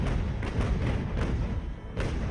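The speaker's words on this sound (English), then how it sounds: "Get some cannon shots right on their rudder." Cannon shots striking an enemy ship during a sea battle in the video game Ultimate Admiral Age of Sail, heard as a dense run of heavy, booming thuds over a constant loud rumble of battle noise.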